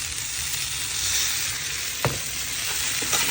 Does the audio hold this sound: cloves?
yes